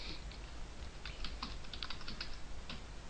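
Fingers type on a computer keyboard in quick, irregular bursts of soft key clicks over a faint background hiss, close and fairly quiet, with no talking.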